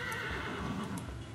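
A horse in a video game gives a loud, close whinny lasting about a second, with a faint clatter of hooves under it.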